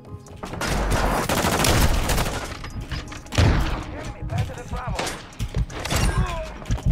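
Dense bursts of gunfire, including sniper shots, in a first-person shooter video game, loud and rapid with booming impacts, mixed with game effects and an excited voice talking over the action.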